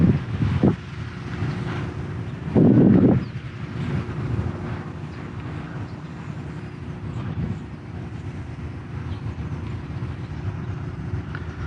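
Wind rumbles and buffets the microphone outdoors while a small drone flies, giving a low continuous roar with a few louder gusts.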